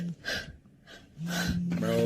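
Sharp gasping breaths come in and out close to the ear in a video game, heavy and uneven, with a voice talking over part of it.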